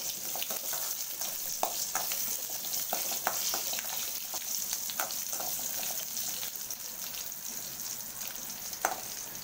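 Onions, shallots, fennel seeds, cumin and ginger-garlic paste sauté in a pan for Chettinad tomato kurma, giving a constant close sizzle with occasional scrapes and taps of a stirring spoon and no voices.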